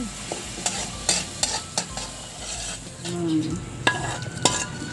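Fermented shrimp paste (bagoong) sautés in a pan, with a run of quick spatula scrapes and taps over a low frying sizzle, close and clear.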